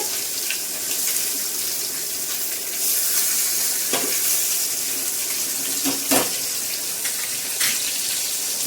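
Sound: fish frying in hot oil

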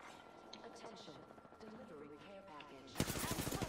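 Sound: gunfire in the video game Apex Legends

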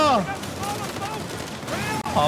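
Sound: gunfire in the video game Uncharted 4

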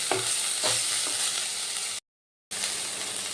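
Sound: drumstick flowers frying in a pan

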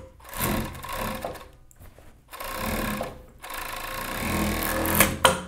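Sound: overlock sewing machine stitching children's shirt seams

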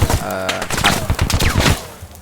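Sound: PGM Hécate II sniper rifle shot

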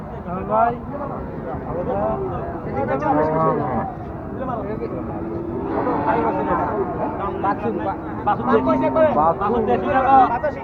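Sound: cattle at a cow market

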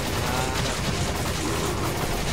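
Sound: gunfire from the video game Resident Evil 5

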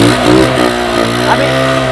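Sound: motorcycle engine starting, running on deodorant spray gas

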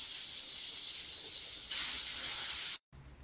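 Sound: basmati rice sautéing in ghee

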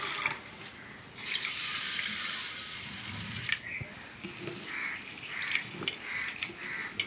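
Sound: washing rice and black gram with water

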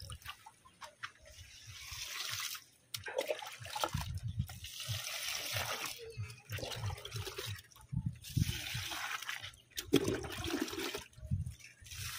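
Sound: water trickling while washing hands

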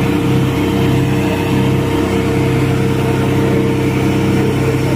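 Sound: tractor engine at a tractor race

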